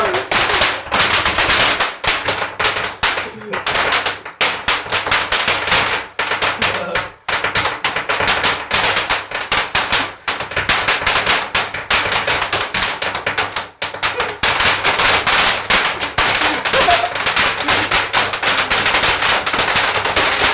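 A firework goes off inside a basement with a long, loud, rapid barrage of crackling bangs like machine-gun fire that fills the enclosed room almost without pause for about twenty seconds.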